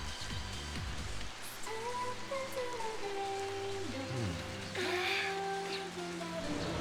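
Steady rain falling through a boss area in Final Fantasy XIII's Sunleth Waterscape, a continuous wash of rainfall under layered game music with no pauses.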